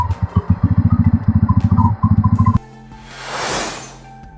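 Bajaj Pulsar N250 motorcycle turning around in a U-turn, its engine chugging in quick rhythmic pulses close by for a couple of seconds before cutting to a softer rising whoosh of passing noise.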